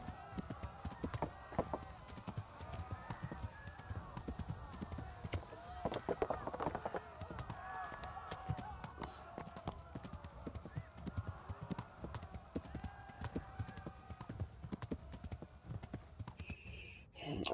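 Horse hooves clip-clop steadily in the video game Kingdom Come: Deliverance, a continuous run of quiet, close hoofbeats with an occasional whinny.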